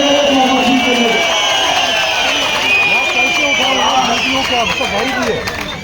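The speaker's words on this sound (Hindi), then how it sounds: "जोर से ताली बजाइए मोहम्मद जी के लिए" A crowd at an outdoor political rally in Ramban claps and cheers for candidate Mohammed Salim, a dense continuous roar of applause with a voice speaking loudly through a PA system over it.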